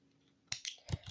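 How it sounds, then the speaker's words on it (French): A wire cutter snips thread during cross-stitch work, giving a few sharp, close clicks and snaps in quick succession after a quiet start. "je vais prendre le coupe-fil."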